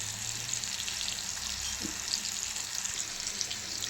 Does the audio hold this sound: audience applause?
no